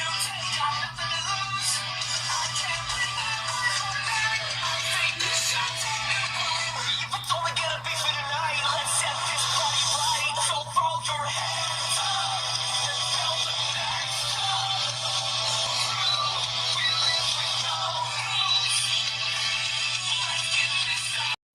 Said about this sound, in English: Let's test sound quality with phone speakers.